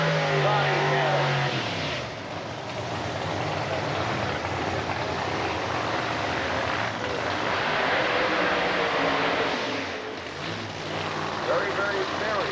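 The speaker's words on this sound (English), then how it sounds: "Very, very appreciated burnout for Cannon." A Pro Modified supercharged or nitrous drag car does a burnout at a 1995 IHRA quarter-mile meet in Bristol, Tennessee, the engine roaring and shifting pitch, with an announcer talking loudly over it.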